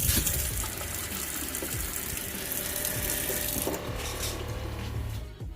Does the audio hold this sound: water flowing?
yes